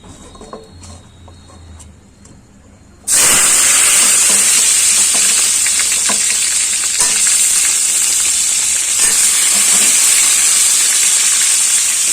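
Salted vegetables go into a hot pan of oil. After a quiet start, a loud, steady sizzle bursts in abruptly and keeps hissing close up, with no talking.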